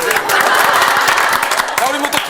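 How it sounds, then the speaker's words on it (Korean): A studio audience applauds in a dense, steady burst of clapping, loud and close, with voices talking over it. "박수 한번 주세요."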